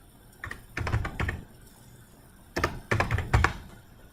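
Two quick bursts of typing on a computer keyboard, each a cluster of close, crisp key clacks separated by a short quiet pause.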